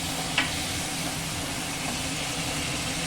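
Duck eggs sizzle steadily in a pan on a gas stove, a constant broadband frying hiss with a brief clatter near the start as they go in, no voices.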